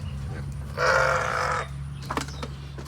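A sheep in a farm shed gives a single short, fairly loud bleat near the middle, set against a quiet low hum and a few faint rustles from the pen.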